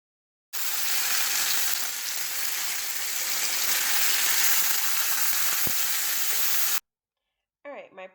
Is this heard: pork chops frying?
yes